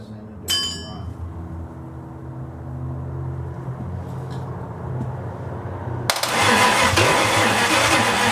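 A 1929 Chrysler fitted with a 360 engine cranks over with no fuel and does not start; a sharp click opens a steady, even cranking drone, then a loud broadband rush takes over for the last couple of seconds.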